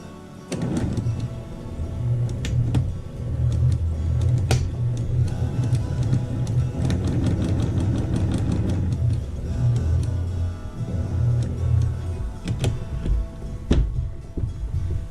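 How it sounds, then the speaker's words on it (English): Sewing machine stitching a quilted table runner, a steady mechanical whir with rapid ticking runs in bursts of several seconds, pausing briefly between runs, close and moderately loud. "I'm going to start sewing this together."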